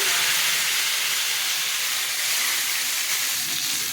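Ginger, chili and tomato fry in hot oil with bay leaf, dried red chili and cumin, giving a steady, loud sizzle and hiss that runs unbroken for the whole stretch with no talking.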